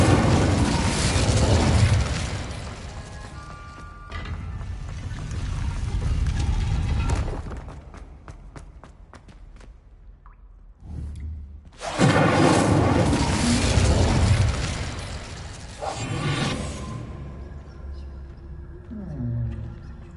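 A fire spell in Hogwarts Legacy goes off in heavy, roaring blasts: two long rumbling bursts are separated by a quieter stretch of clicks and ticks, and a fainter tail follows.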